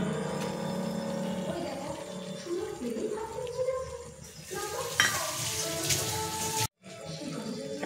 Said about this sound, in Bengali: এবার নেড়ে চেড়ে বন্ধ করে দেব।